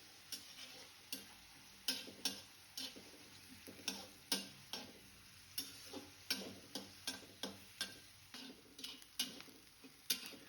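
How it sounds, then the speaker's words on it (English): Chopped onions frying in ghee and oil, a quiet soft sizzle beneath a series of distinct, regular tapping and stirring knocks of a utensil against the pan, fairly faint and close, with no talking. "Add chopped onions. Then fry until transparent."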